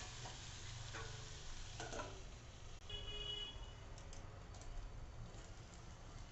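Moong dal being sautéed in a pan while cooking a tinda masala bhaji, a steady low sizzle with faint stirring scrapes and clicks throughout.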